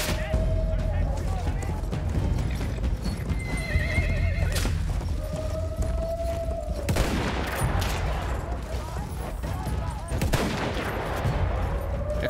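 A horse in the Battlefield 1 campaign whinnies several times over pounding hoofbeats, with bursts of gunfire and game effects crackling in the background.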